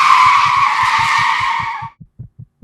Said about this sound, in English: slammed on the brakes